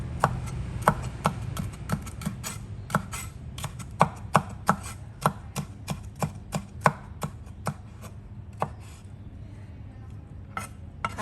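Knife chopping red bell pepper on a cutting board, a steady run of sharp, close taps at an uneven pace, loud and alone with no voices.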